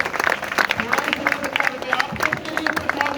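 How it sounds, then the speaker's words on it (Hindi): A school event audience at a government school in Rewari Khera claps steadily, a dense patter of many hands mixed with crowd murmur and voices throughout. "एक बार जोरदार तालियां"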